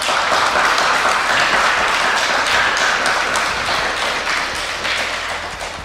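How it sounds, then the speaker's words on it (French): An audience at the PodRennes 2024 podcast event breaks into loud, sustained applause, a thick wall of clapping that slowly fades toward the end. "Vraiment, ces applaudissements,"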